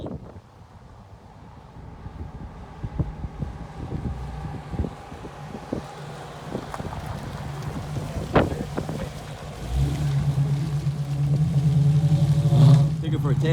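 A Fox-body Ford Mustang with a Coyote V8 on a test drive, its engine droning steadily and rising into a louder, harder pull near the end, with wind rushing past the microphone.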